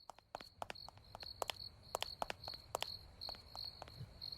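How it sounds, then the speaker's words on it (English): Crickets chirp steadily in a dark underground space in a horror video game, a high rhythmic trill with sharp clicking footsteps pulsing over it at a moderate distance. "You can hear, like, crickets, I guess."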